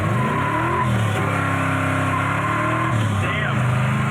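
A 1972 Chevy Nova accelerating hard through the gears, its loud engine rising in pitch with each shift and dropping back as the gears change, recorded from close by inside the car.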